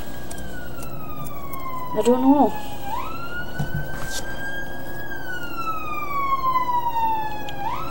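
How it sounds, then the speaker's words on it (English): An ambulance siren wails outside, its pitch sweeping up and down steadily as the vehicle passes, with a brief spoken remark near the start. "Oh, it's an ambulance."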